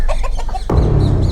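A chicken clucks in short, close, loud bursts, followed by a sudden loud rumbling noise that covers the rest.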